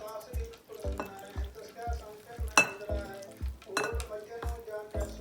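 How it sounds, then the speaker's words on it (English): A spoon stirs eggless donut batter made with melted butter and milk in a bowl. Steady, rhythmic scraping strokes come about twice a second, close and clear. "We're just going to use a spoon to mix it."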